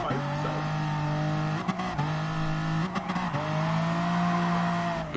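Gran Turismo race car drifting, engine droning steadily with a held tone that dips and shifts as the tires squeal and skid through several slides, loud and close, with no talk over it.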